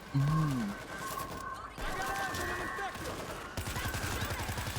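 Gunfire rattles in the zombie shooter World War Z, set in its New York level: fast, clustered shots and bursts at moderate loudness, with a player's voice over the action.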